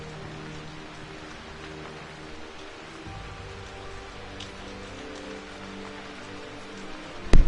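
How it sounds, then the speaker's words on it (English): Rain falling indoors in the Grand Hall of a Tomb Raider game: a steady patter of rain over a low ambient hum, with a sharp, louder impact at the very end. "it's raining through that bitch."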